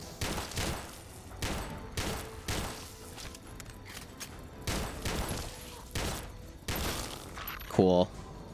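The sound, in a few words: automatic pistol gunfire in video game Tale of Two Wastelands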